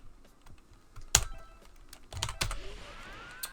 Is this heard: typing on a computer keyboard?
yes